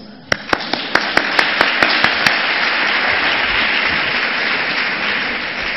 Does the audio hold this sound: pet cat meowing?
no